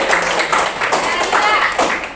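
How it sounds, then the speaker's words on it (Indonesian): A classroom of students claps hands during a lesson, a brisk run of close, uneven claps with a few distinct slaps, while voices chatter over them. "Oke, tepuk tangan dong."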